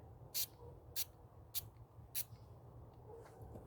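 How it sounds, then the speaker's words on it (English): Four short, sharp bursts of cleaning liquid hiss out onto a car battery one after another at a steady pace over a low, continuous background hum. "And you just lightly spray it."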